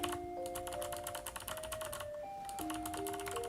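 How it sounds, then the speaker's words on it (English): Steady typing on a computer keyboard at a programming desk, with a quick, continuous run of crisp clicks close to the microphone while sustained musical tones play underneath. "the keyboard should sound pretty nice with this setup"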